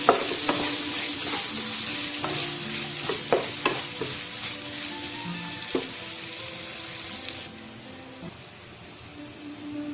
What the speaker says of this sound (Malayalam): ആവശ്യത്തിന് വേണമെങ്കിൽ കുറച്ച് ഉപ്പും കൂടി ചേർത്തിട്ട് പെട്ടെന്ന് വഴറ്റിയെടുക്കാം.